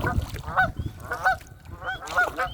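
Geese honk near a beaver lodge on a creek in Kawartha Highlands Provincial Park. Loud, close, nasal calls come in quick repeated pairs about every 0.7 seconds, with no talking.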